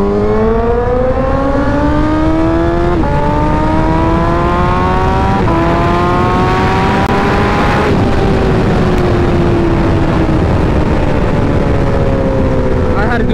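A sport bike with a faulty quickshifter accelerates hard through several gears, the engine note climbing in long loud pulls with brief dips at each shift, heard close with wind roar.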